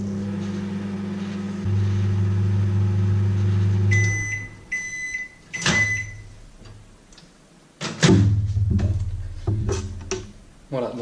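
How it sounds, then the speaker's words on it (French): A microwave oven runs at full power heating mirror glaze, a steady hum that stops with a series of beeps and a door clatter, followed by handling noises. "on va très simplement en fait le réchauffer avec un micro-ondes par un coup de 20 secondes"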